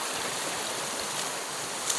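A river flowing nearby, a steady broadband rush of moving water, close and continuous with no voices.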